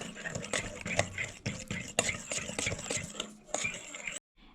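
Basbousa batter whisked in a bowl, a busy, fairly close run of rapid clicking and scraping strokes with a few sharper knocks against the bowl, ending abruptly.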